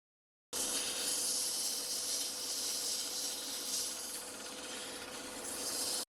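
Sandpaper rubs against spinning wood in a steady, close hiss that continues evenly for several seconds after a brief silence.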